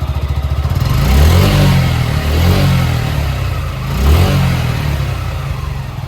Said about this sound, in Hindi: तो अभी आपको मैं इसका साउंड सुनाता हूँ, ये आइडियल सुन लो। तो अब मैं इसको थ्रॉटल देता हूँ थोड़ा सा।